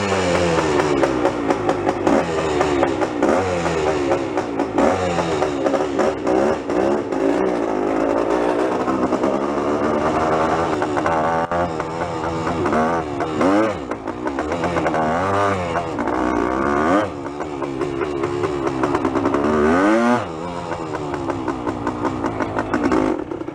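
A 1973 Yamaha Enduro 175 motorcycle engine runs loud and close, revving steadily with rising and falling pitch swells and brief dips, and no talking throughout.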